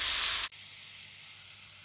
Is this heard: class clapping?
no